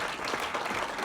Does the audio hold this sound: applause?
yes